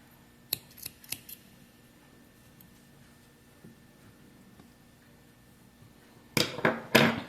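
Scissors snip crochet yarn in a quiet room, with a few sharp close clicks near the start and a louder cluster of cuts at the end.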